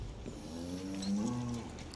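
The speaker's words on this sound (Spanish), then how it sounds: "Aquí se oye una vaca." A cow in Far Cry 6 lets out a single drawn-out moo, a clear mid-distance lowing call rising and falling over about a second and a half against faint background ambience.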